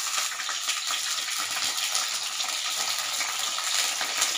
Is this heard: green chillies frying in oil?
yes